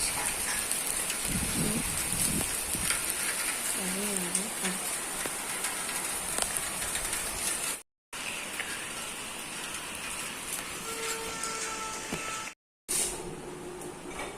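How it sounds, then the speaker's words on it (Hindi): Steady rain hisses continuously on a rooftop, with a dense wash of falling water throughout, briefly cut by two short silent gaps. "छत पे दिख रही है आपको बारिश।"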